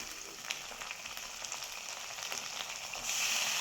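Carrots and beans sauté in a hot pan with a steady, even sizzle that swells a little louder near the end, heard alone without any talk.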